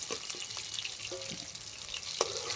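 Potatoes frying in oil in a pan over a wood fire at a rooftop winter family picnic, a faint steady sizzle with a few soft clinks and stirring sounds.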